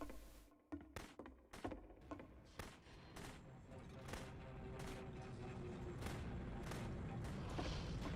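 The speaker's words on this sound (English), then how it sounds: "Remember, you can click to fire the gun." Gunfire in the video game The Beginner's Guide: a handful of sharp separate shots at first, then a dense sustained barrage of rapid fire that grows into a continuous loud roar.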